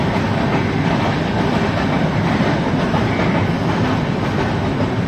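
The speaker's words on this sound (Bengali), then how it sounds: "এই যে দেখো মানে শতাব্দী এক্সপ্রেস যাচ্ছে" A Shatabdi Express passenger train passes close by, seen from a balcony window, a loud, continuous roar of wheels and rolling carriages with a faint rhythmic clatter, filling the whole stretch without any voices.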